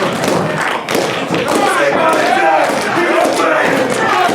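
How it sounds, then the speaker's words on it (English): A pro wrestler's signature body slam onto the ring mat at a GMW match, a dull thud landing amid steady, loud crowd noise and shouting, with an announcer talking over the arena roar. "Picking him up and showing him where the sidewalk ends. Slam."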